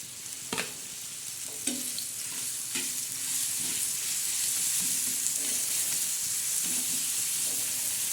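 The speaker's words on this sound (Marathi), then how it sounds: "तर आता आपण ठेसा तळणार आहोत" Green chili thecha fries and roasts on a hot griddle, a continuous sizzle broken by scraping and stirring knocks from a spatula, close and with no talking.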